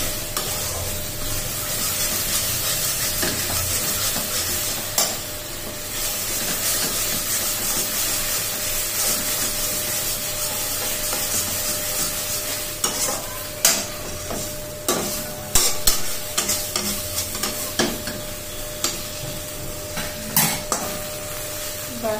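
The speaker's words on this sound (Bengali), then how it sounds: "দেখুন আমি পোস্তটা পুরো ভাজাই দেখাচ্ছি আপনাদের।" Poppy seed paste fries in a pan over low heat, with soft continuous sizzling and a spatula scraping and stirring, plus occasional sharper knocks against the pan.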